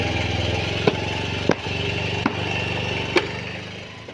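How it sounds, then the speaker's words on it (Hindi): A motorcycle engine idles steadily and close by, broken by four sharp knocks or clicks spaced roughly a second apart, with no talk over it. "तो ये करेंगे फिलहाल बाइक को स्टार्ट और साफ करेंगे।"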